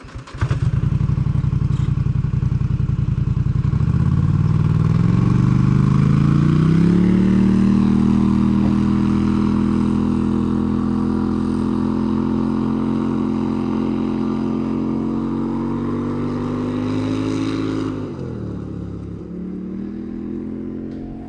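An overland vehicle's engine running at higher RPM, a loud, steady, close drone that climbs in pitch early on, holds there for a long stretch, then dips near the end.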